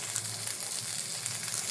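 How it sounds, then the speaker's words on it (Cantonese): A sole fillet, seasoned with pepper, garlic salt and sea salt, fries in a non-stick pan with a dense, even sizzle that crackles steadily and close up, with no voices. "等佢呢個魚柳咧煎到旁邊開始變白色咧"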